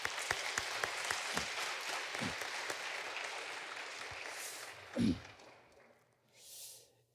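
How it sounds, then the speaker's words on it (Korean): Congregation applauding in a church after a choir and orchestra performance, a steady wash of clapping with a few sharp claps that fades out, followed by a brief soft sound and quiet. "박수 한번 드리겠습니다"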